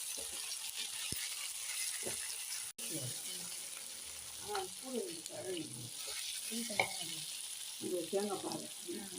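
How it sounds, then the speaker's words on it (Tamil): Ingredients sautéing in hot oil for a dried fish curry, with a steady close sizzle and frying hiss throughout, while a person talks over it. "நல்லா எண்ணெயிலையும் வந்து வதக்கி விட்டுக்குங்க"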